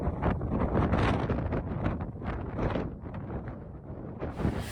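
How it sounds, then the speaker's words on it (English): Strong wind buffets the microphone outdoors beside a chapel in Dorset, a loud, continuous rumbling roar that surges and eases throughout with no other sound standing out. "I'm hiding from the wind, so apologies if the wind does sound very annoying for you."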